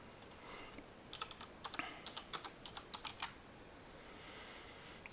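Typing on a computer keyboard while entering a search into Google, heard as a near burst of crisp, irregular key clicks over a quiet background, with no talking.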